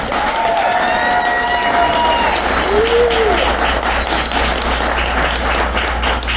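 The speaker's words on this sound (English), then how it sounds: "So round of applause, please." An audience at a sponsor recognition and birthday toast event breaks into loud, sustained applause and clapping filling the room, steady throughout with faint cheering mixed in.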